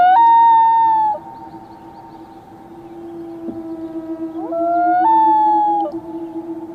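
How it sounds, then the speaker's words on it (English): A common loon gives its long, haunting wailing call, a clear sustained tone that rises and falls, repeated twice with a quieter gap between. "Number 1. Common loon."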